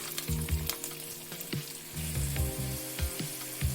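Onions frying in plenty of oil with curry leaves for a Godavari-style fish curry, crackling and sizzling steadily up close while a spoon clanks and scrapes against the pan in an uneven rhythm.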